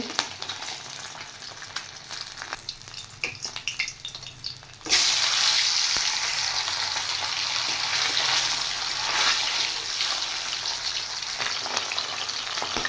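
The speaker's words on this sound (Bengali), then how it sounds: "মাছগুলো এত ফুটছে," Bele fish fry in hot oil with a loud, bubbling, crackling sizzle that swells midway and stays steady, following quieter stirring and spatter earlier, with no talk.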